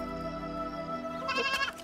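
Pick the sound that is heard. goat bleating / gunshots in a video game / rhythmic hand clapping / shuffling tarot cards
goat bleating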